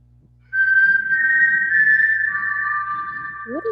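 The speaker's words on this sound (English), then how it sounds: "What is that noise? That's a whistle." A steady, sustained whistle holds one high pitch for about three seconds, dips slightly lower near the end, and plays over a low background hum.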